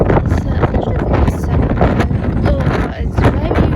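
Strong wind outdoors on a wet, gloomy, warm day, gusting hard and buffeting the microphone with a constant low rumble while a person talks over it.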